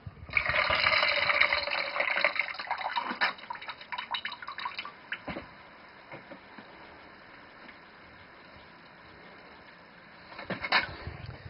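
Liquid draining from a worm bin, a loud splashing pour at first that thins to dripping and trickling, then a brief splash again near the end.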